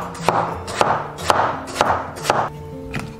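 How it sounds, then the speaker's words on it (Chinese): Kitchen knife slicing a peeled green-skinned winter melon on a cutting board, five evenly spaced crisp chops in a steady rhythm, close and clear with no talk. "接着改刀切片"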